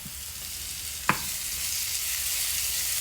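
Tomatoes tipped into a pan of cheesy grits: a short stirring knock, then a steady soft sizzle and bubbling that carries on alone.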